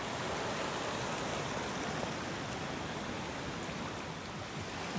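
A raging river on the Bolaven Plateau in Laos rushes in a dense, steady roar of churning water, constant and close, with no voices.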